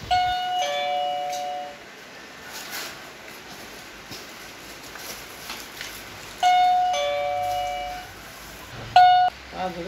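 An infrared motion-sensor doorbell chimes several times, with tonal ding-dong notes in bursts separated by gaps, under a soft background hiss.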